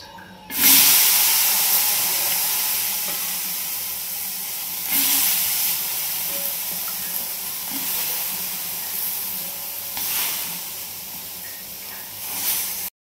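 Green chillies, stems removed and washed, roasting on a hot griddle give a steady close hiss and sizzle with a few sharper bursts of crackle, heard alone without talk.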